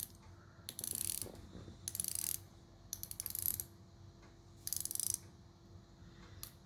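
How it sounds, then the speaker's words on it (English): A unidirectional bezel on a matte black 45mm sports watch is turned in four or five separate bursts of crisp, rapid ratcheting clicks. The clicks are close and fairly quiet, with short pauses between the turns. "The bezel is a unidirectional bezel."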